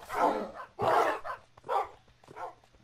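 Dogs from a Minecraft Real Pets mod give several short barks and yips in quick succession, fairly close and clear, with gaps between each bark.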